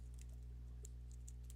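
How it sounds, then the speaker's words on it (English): Fast typing on a computer keyboard, a few scattered light key clicks sitting faint under a loud constant low hum, with no voices. "I'm typing as fast as I can."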